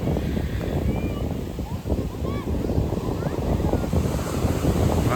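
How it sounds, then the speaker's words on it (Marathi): Sea waves washing onto Devgad beach in the Konkan at sunset, a continuous rushing surf roar mixed with heavy wind buffeting the microphone, with faint voices and calls in the background. "समुद्राच्या लाटा."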